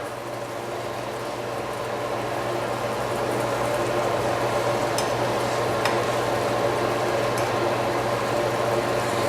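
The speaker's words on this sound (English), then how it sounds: "We're going to go ahead and flip these bad boys around." Pierogies with onions and butter frying in a pan after being flipped, a steady close sizzle and hiss throughout with a faint background hum and a few tiny clicks, no talking.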